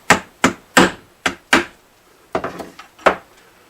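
Sharp wooden knocks from striking a glued brace inside a Kay K536N acoustic guitar to free it: about eight firm, close hits in an uneven rhythm with short gaps, loud and alone.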